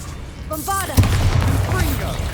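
A Bombarda spell explosion in the Hogwarts Legacy video game lands as a single sharp, booming blast, followed by a rolling rumble that lingers, with a brief tonal magical flourish just before the hit.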